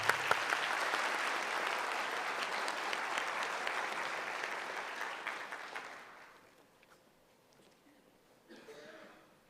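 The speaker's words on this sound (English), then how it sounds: "Another round of applause for the first choir." An audience at a university PhD graduation ceremony applauds a choir, sustained clapping for about six seconds that then thins out and fades, followed by quieter room sound and a brief voice.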